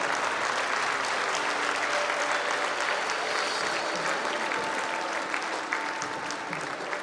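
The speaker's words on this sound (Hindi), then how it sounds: "तालियां और बजनी चाहिए।" Audience applauding at a state award ceremony for honoured achievers, a dense, even roar of many hands clapping continuously throughout at moderate distance.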